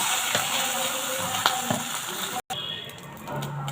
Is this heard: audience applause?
no